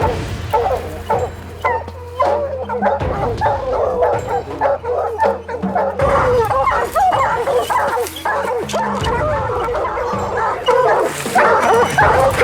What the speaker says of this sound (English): I think the dog got that bear bayed or treed